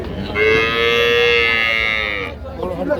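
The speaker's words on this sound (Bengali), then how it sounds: "হাটের উপর গরু ভাই হাটের উপর গরু হাটের উপর গরু" A single long, loud cow moo rises close by for about two seconds at a busy cattle market in Ambari Haat, Dinajpur, with crowd chatter and voices underneath.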